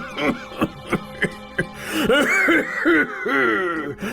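A man coughs in a run of short, dry bursts at a steady rhythm, then breaks into a longer stretch of hacking, wheezy coughs that shade toward laughter. The sound is close and faint, and nobody speaks.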